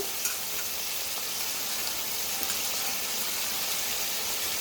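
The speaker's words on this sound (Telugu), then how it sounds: "ఒక పది నిమిషాలు ఇట్లా ఉడికించేసుకుంటే సరిపోతుంది" Mutton keema simmering in a pan, a dense, even sizzle and bubbling close by, steady throughout with no voices.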